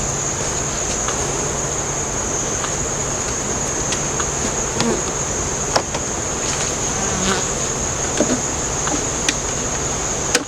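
Honey bees buzz densely and continuously around hive frames outdoors, a steady loud insect drone with occasional clicks and knocks of frame handling nearby.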